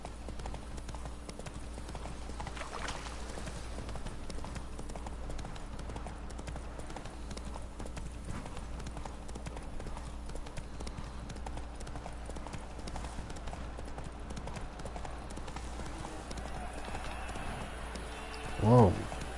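Roach the horse gallops in The Witcher 3, with rapid, continuous hoofbeats drumming evenly throughout and a brief louder thump near the end.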